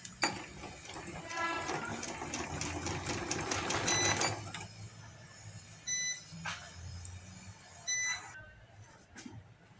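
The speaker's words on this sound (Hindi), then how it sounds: "तो इस तरह से मैं इसके प्लेट डालती जाऊंगी और सिलाइयाँ लगाती जाऊंगी" A sewing machine stitches pleats into a lehenga, running in a fast rattling burst for a few seconds and then in short intermittent runs. Faint beeps and light talk are heard between the runs.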